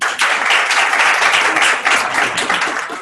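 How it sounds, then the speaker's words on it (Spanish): A group applauds a participant during a music therapy session, the clapping loud, dense and sustained from start to finish with no pauses. "Un aplauso por él."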